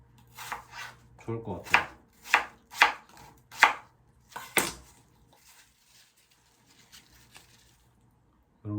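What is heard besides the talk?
chopping ingredients with a knife into small pieces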